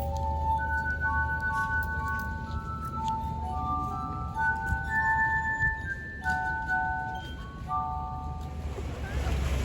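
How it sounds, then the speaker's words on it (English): Glass music played on tuned glasses outdoors in Murano, Italy: sustained ringing tones shift from pitch to pitch in a slow melody, with wind, water and crowd noise around. "Now we're in Murano, on the glass, she's making music."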